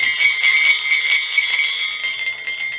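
Jingling bells ring continuously in a bright, shimmering shake, close and clear with a slight fade toward the end and no voices over them.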